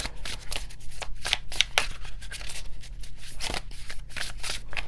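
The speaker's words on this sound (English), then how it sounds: "Now this tarot deck is new, so bear with me here on the shuffling." A new tarot card deck being shuffled by hand, with a steady run of papery riffles and slaps lasting several seconds, close and fairly quiet, with no voices.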